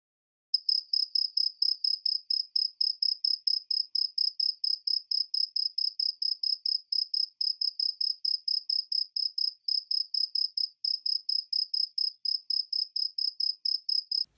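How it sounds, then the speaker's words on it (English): A pet cricket in a cage chirps in a fast, steady run of evenly spaced high pulses, close and alone, with only a few tiny gaps and no other sound. "my cricket suddenly started chirping repeatedly"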